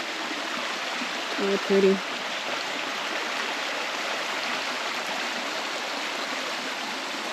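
Woodland stream in the Poconos near Rattlesnake Falls flows with a steady, broad rushing wash, close and continuous, while a person briefly speaks over it.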